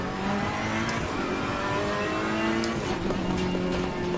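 A GT3 race car at Monza in a sim racing game draws up from behind while the player's own engine drones steadily, the rising engine note building under the constant roar.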